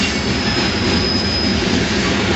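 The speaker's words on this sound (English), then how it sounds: "I wonder where these trains have been. Mostly all tankers." A long freight train made up mostly of tanker cars rolls past close by near a rail yard, a steady loud rumble of wheels on track with metallic squeal and hiss throughout, no voices.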